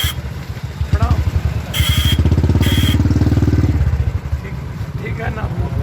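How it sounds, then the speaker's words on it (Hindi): A motorcycle ride through a flood-hit area of Siwan, with the bike's engine thumping steadily up close, revving up and settling back to a rumbling idle, while voices talk over it. "तो पप्पू यादव के साथ बाइक राइड कर रहे थे हम लोग।"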